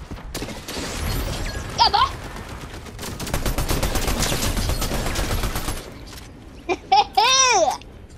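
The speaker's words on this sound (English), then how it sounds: "Watch out, bud. They're shooting at you." Rapid bursts of Fortnite gunfire crackle in a dense fusillade for several seconds, with playful voices and chirpy sounds breaking in around it.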